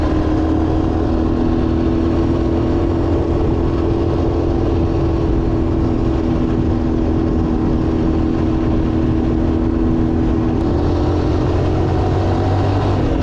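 Honda Big Red three-wheeler engine running while being ridden, a loud steady close drone with a slight shift in tone late on as the gears change.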